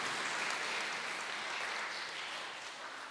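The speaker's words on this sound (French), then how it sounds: "On les applaudit" A congregation at Sunday Mass applauds newlyweds in an even wash of clapping that stays moderately faint and fades slightly toward the end.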